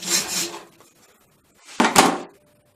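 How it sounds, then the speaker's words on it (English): A hacksaw cuts through a metal item with a nut threaded onto it, giving two separate rasping strokes close by, with a short quiet gap between them. "put your other hand on the hacksaw because this will help with the push as well as guiding the saw and keeping it straight"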